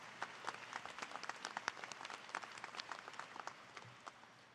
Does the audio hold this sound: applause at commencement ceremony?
yes